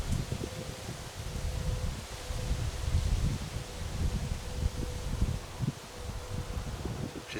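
Wind gusts through forest trees at night, rustling leaves and buffeting the microphone with low, uneven rumbles.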